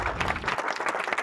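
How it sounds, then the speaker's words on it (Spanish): A short, close burst of applause fills a radio studio, dense clapping from a small group. "Un aplauso para Marco Lazarte"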